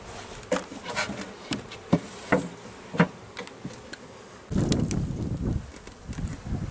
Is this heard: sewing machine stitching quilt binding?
no